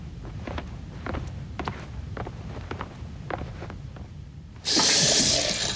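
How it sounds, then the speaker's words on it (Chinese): Tap water gushes loudly into a bathroom sink for hand washing, starting abruptly near the end after quieter household movement and faint footsteps. "洗手去。"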